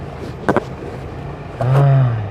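Car engine idling and then revving up as the vehicle turns around, a low steady hum that swells into a louder sustained drone in the last second, with a couple of brief clatters early on.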